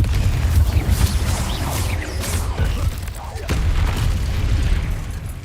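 Rumbling bursts from Confringo spell explosions in the game Hogwarts Legacy, repeated deep booms and crackles with heavy low-end, overlapping with a voice shouting spell names.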